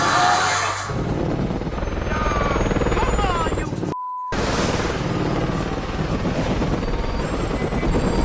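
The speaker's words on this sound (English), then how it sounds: "The helicopter's gonna crash." Helicopter in a tense crash scene from the film 28 Weeks Later, a steady loud rotor and engine roar with a high whine, briefly cut to silence near the middle before resuming.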